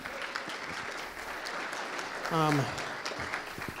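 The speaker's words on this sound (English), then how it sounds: "Let's give him a big round of applause." An audience at a GOP convention claps in a sustained, steady round of applause, with a short tonal sweep in the middle and faint voices beneath.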